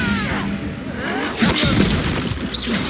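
Depulso spell cast during a Hogwarts Legacy duel, a loud magical blast with a booming impact and crackling shatter over ongoing combat noise, dense and close for about three seconds.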